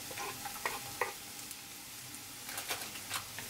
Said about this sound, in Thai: จากนั้นผัดวนไปค่ะแล้วก็รอให้หอมสุกก่อนนะจ๊ะ